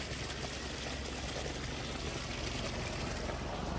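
Irrigation water running steadily through a farm field, a continuous broadband wash of flowing water with a low rumble beneath, even and unbroken throughout.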